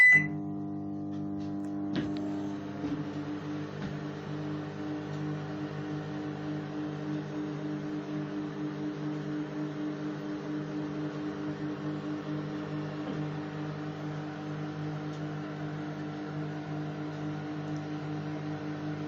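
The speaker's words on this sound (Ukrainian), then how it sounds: "Вода нагрілася, мікрохвильовка працює." A Panasonic NN-GT35HB microwave oven runs steadily, giving a close, even electrical hum with a faint click near the start and no voices over it.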